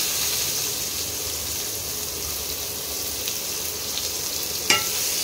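Two large onions, chopped, fry with garam masala in hot oil for a crab curry, giving a steady close sizzle throughout with a faint clink of stirring near the end.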